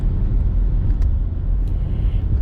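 A car rolls into Poole Forge Covered Bridge Historical Park in Lancaster County, Pennsylvania, with a constant low engine rumble and tyre road noise filling the cabin and no talking.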